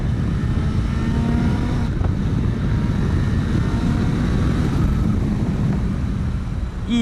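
A motorcycle with a broken clutch cable rides along, shifting gears without the clutch; a steady, loud engine and wind roar runs throughout with brief changes in tone as gears change, no talking.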